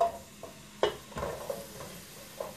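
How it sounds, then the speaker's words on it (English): Sliced onion frying in a pan for a meat pie filling gives a soft, low sizzle, broken by a few sharp clicks and scrapes of stirring, with no voices. "let's fry the onion a little bit"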